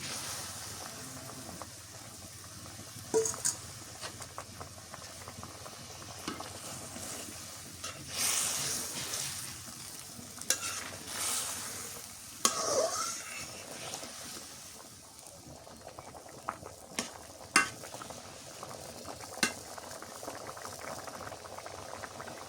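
Rita fish dropped into a clay pot of hot oil over a mud stove, hissing and bubbling steadily, with intermittent louder spatters and crackles and no talking.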